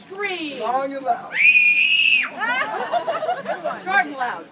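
A performer's voice lets out a long, loud scream in the middle of an animated storytelling of Robin Hood with the sheriff, framed by energetic spoken narration with laughter and chatter before and after.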